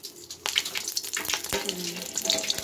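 Bay leaf frying in a small amount of oil over raised gas flame in a home kitchen while cooking lentils, giving a steady close crackling sizzle with scattered pops throughout.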